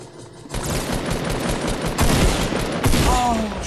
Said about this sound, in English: It's a good machine gun.